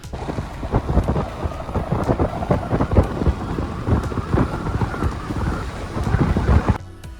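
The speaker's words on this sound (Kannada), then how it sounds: "ನಾವೀಗ ಮಳೆಯಲ್ಲಿ ಸಿಕ್ಕಾಕೊಂಡ್ಬಿಡ್ತು ಈಗ ವೆಯ್ಟ್ ಮಾಡ್ತಾ ಇದ್ದೀನಿ ಮಳೆ ಕಮ್ಮಿ ಆಗೋಕ್ಕೆ" Heavy rain pours steadily and loudly throughout, with dense drumming and low rumbling underneath, ending abruptly.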